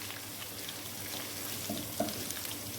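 Quiet, steady sizzle of food frying in a pan for white matar pulao, a soft continuous crackle with a couple of small stirring taps and no talking.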